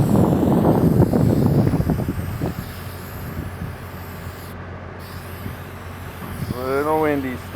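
Wind blowing at an outdoor house renovation site in Bakersfield, strongest at the start and rumbling against the microphone before easing, with a brief voice near the end.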